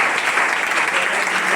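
A church congregation applauds in a steady, dense wash of clapping during a Spanish-language sermon, loud and sustained throughout, with no speech over it.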